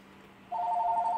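A phone starts ringing abruptly after a brief quiet pause, a steady two-tone electronic ring that stays loud and close until the end.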